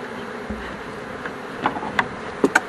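Faint buzzing of honeybees at a hive with a few louder passes close by, over a soft steady background hum.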